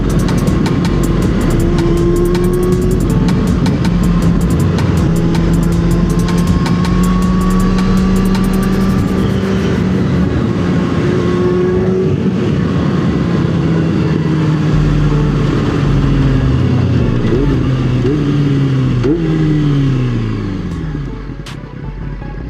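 A Yamaha R6 sport bike screams at high revs for a long sustained run, its loud engine tone climbing through gears and shifting pitch before easing off and fading at the end.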